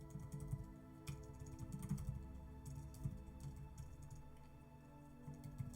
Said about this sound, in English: Not used to this laptop keyboard.